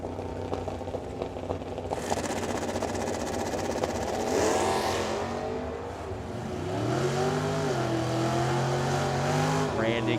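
A Mustang drag racing at Firebird Motorsports Park, its loud engine revving and roaring as it accelerates and shifts, then fading away, with an announcer talking over the noise throughout.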